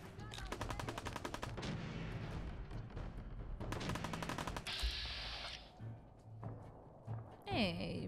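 Gunfire in the video game Fallout 4: loud rapid bursts of automatic fire rattle in quick succession, followed by a few scattered single shots and clanks, with game sounds and some talking mixed in.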